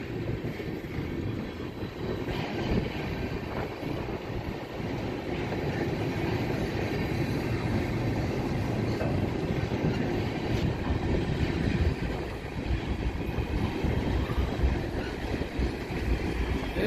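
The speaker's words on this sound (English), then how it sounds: "This one's a long train" A long train rumbles past at close range for a sustained stretch, wheels clacking and grinding steadily over the tracks, with no voices.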